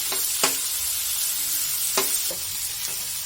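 A tomato, potato and paneer mixture fries in a pan with a steady bright sizzle, broken by a few distinct scraping clinks from a spoon stirring it.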